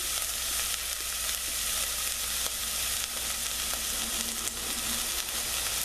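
Vegetables and peas sizzle steadily in a pan for a vegan pot pie filling, a dense, even frying hiss with faint stirring ticks and no talking.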